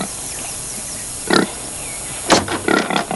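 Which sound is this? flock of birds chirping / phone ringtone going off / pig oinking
pig oinking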